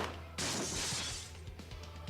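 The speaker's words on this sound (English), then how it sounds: "The glass shattered onto us." Window glass shatters in the visual novel Piofiore: Fated Memories, struck by gunfire during an attack, with a sudden loud crash that spreads into a sustained spray of breaking fragments for well over a second before thinning out.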